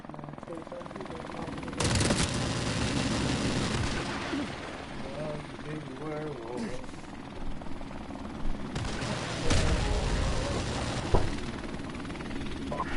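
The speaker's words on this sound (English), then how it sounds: "Enemy helicopter inbound." Enemy helicopter in a first-person shooter video game, a steady rotor drone running throughout with bursts of gunfire and explosions over it, plus game voice announcements.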